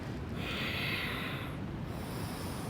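A single audible exhale from someone practicing yoga, a soft, breathy rush of air lasting about a second, close and quiet with no talking.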